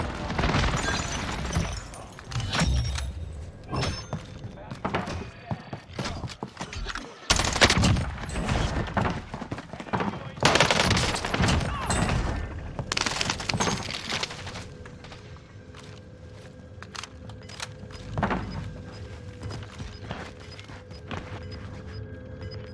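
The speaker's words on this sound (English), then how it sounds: "Enemy precision airstrike." A precision airstrike in Call of Duty: Warzone on Rebirth Island brings loud, rolling explosive blasts and bursts of gunfire, heavy in the middle and easing toward a quieter, sparser end.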